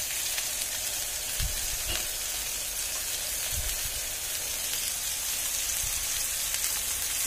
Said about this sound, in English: Ooh, listen to the sizzle.